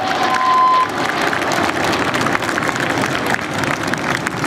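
A large air-festival crowd applauding and cheering steadily, a dense continuous wash of claps at moderate distance, with a brief tone near the start.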